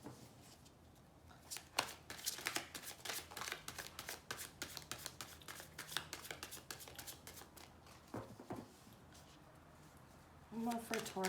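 A deck of tarot cards is shuffled by hand at close range, a long run of rapid crisp riffling snaps with brief pauses. Faint talking comes through near the end.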